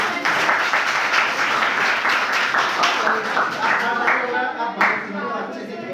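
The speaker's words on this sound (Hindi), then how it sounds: "जो साथ ताली बजाइए।" A room full of people clapping steadily at a quiz competition, a dense continuous applause that begins to thin toward the end as a voice comes in.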